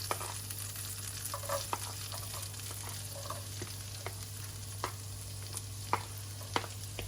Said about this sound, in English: And they go in together to sizzle around for the initial stage.